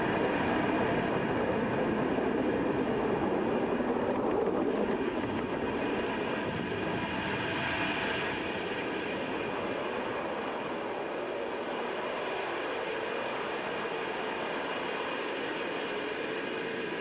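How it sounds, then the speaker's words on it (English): A SpaceX Falcon 9 rocket lifting off from Space Launch Complex 40 at Cape Canaveral Space Force Station: a continuous heavy, rumbling roar heard from a distance that holds steady and eases slightly over time. "Falcon 9 has lifted off from Space Launch Complex 40 at Cape Canaveral Space Force Station"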